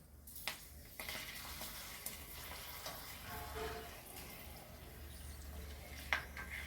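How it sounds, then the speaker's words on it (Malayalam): Small pappadams frying in hot oil, a soft continuous sizzle with faint bubbling and occasional clicks of a utensil against the pan, fairly quiet with no talking. "നമുക്ക് ഈ പപ്പടത്തിലുണ്ട് വറുത്തെടുക്കുന്നത്."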